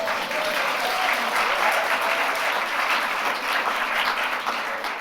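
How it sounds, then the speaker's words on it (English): An audience at an alumnae forum at Bowdoin applauds with steady, dense clapping from many hands. It is moderately loud and continuous for the whole stretch, with no talk over it. "You can clap."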